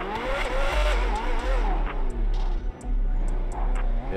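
A Maybach limousine engine revs in a roleplay video game. It roars loudly and continuously, with the pitch rising and falling as the revs build, and no talk is heard over it.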